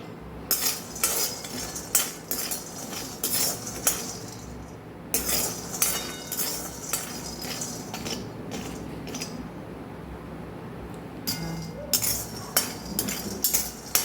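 A handful of peanuts dry-roasting in a kadai, stirred so they rattle and scrape against the metal in repeated bursts, with short pauses between stirs and steady close-up clatter throughout.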